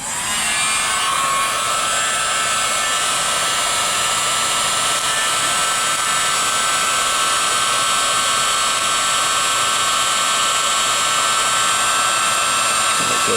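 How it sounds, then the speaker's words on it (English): A heat gun blows on a warped part from a Burger Time arcade machine during a restoration, giving a loud, constant airy roar with a faint whine that runs unbroken throughout, with no talking. "Heat gun."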